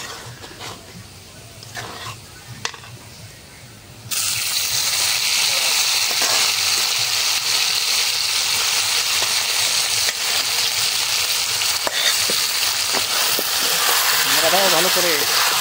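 Greens are dropped into hot oil in a pan, and a sudden loud burst of sizzling takes over from quieter kitchen sounds, then holds as a steady, close frying hiss. Voices talk briefly underneath.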